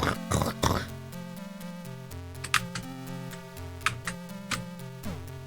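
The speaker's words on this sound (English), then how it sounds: "That's the sound of me crunching skeleton heads." Retro chiptune-style crunching hits from the Amstrad CPC game Deathstalker, a few sharp bursts over continuous bleepy game music.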